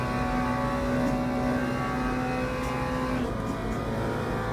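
GT3 race car engines at Le Mans in a racing sim, a steady loud drone with sustained engine tones and a shift in pitch partway through.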